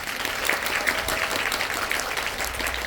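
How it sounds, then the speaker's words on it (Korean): A cinema audience at a film talk event claps steadily together, a dense, even patter of many hands sustained for a few seconds. "축하의 박수 한번 부탁드립니다."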